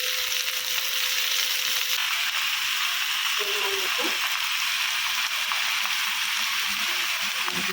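Leafy greens dropped into hot oil in a pan give a steady, bright sizzle and hiss that runs throughout, with faint stirring scrapes partway and a soft voice in the background.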